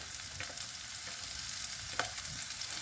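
Chopped onions roast in a pan for a savory oats dish, giving a steady close sizzle with a few soft stirring scrapes and no speech.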